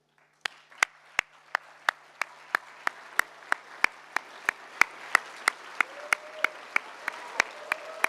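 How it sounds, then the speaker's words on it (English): Graduates are honored at a dean's opening address with applause, though the hall sounds sparse: a few people clapping in a slow, evenly spaced rhythm of sharp distinct claps, fairly faint, with a faint voice briefly underneath. "join me in a warm applause to thank them and recognize them"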